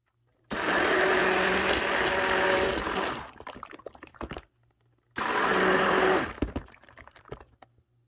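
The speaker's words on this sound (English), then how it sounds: "that was the sound of my stick blender" A stick blender whirs loudly in homemade soap oils during soapmaking, running in a steady burst of about two and a half seconds, stopping, then a shorter second burst, each trailing off into faint clattering.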